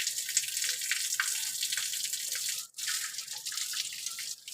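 Water running and dripping steadily while animals are being bathed, a continuous faucet-like splashing stream with brief interruptions, fairly close.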